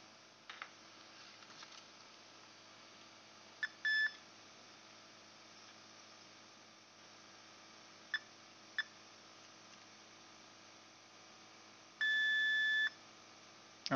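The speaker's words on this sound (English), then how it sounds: "Let's test for continuity." Several short, quiet electronic beeps from a multimeter testing continuity on a diode removed from a Kessil A360W light board, with a longer sustained tone near the end over a faint hum.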